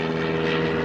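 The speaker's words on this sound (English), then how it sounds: "we have a airplane interrupting our video" A propeller airplane drones steadily overhead above open water where someone is fishing from an Old Town Sportsman 120 paddle kayak, its tonal engine hum loud and continuous through the brief moment with no talk.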